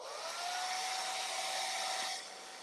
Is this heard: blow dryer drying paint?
yes